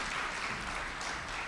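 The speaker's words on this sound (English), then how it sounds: "A round of applause for them, please." Brief, fairly soft applause from an audience at an innovation expo in Lilongwe: a steady wash of clapping with no distinct individual claps standing out.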